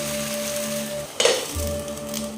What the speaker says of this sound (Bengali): ঢাকনাটা খুলছি, আর একটু এই পাশে উল্টিয়ে দেবো